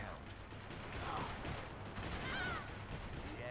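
Gunfire from a Max Payne 3 multiplayer match, a dense, continuous spray of shots and battle noise filling the whole stretch at moderate loudness, with scattered voices and effects mixed in.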